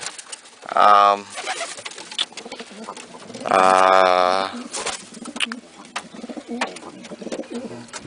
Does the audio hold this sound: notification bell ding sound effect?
no